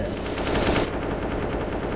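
Rapid automatic gunfire in the video game CS:GO, a dense burst of close, loud shots that stops abruptly partway through, leaving a duller muffled tail.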